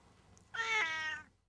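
A single cat meow, a clear drawn-out call close by against a quiet background.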